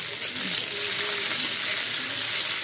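Onions fry in a pan for egg biryani, a steady close sizzle with a faint stir now and then.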